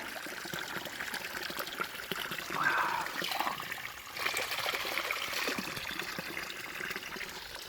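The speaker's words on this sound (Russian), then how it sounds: "Подсказали нам местные, что тут есть родничок с питьевой водичкой." Cold drinking water trickles steadily from a natural spring in the Crimean countryside, a soft continuous splashing flow heard up close with no voices.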